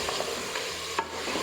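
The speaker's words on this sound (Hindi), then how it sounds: "मसालों को अच्छी तरह से भून के" Spices frying in a pan for Lucknow-style mutton korma, a steady soft sizzle with light stirring taps close by.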